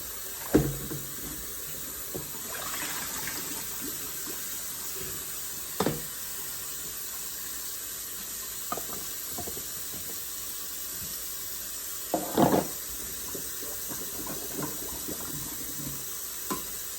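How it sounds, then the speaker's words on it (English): Okra is rinsed under a running kitchen tap, with a steady stream of water hissing into the sink, punctuated by occasional sharp clunks and knocks as the pods are handled. "So I have my okra here. I'm just washing it a little bit"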